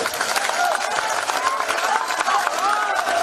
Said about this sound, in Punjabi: ਅੱਜ ਇੱਕ ਜ਼ੋਰਦਾਰ ਤਾੜੀ ਆਪਣੇ ਨਾਲ ਮਾਰੋ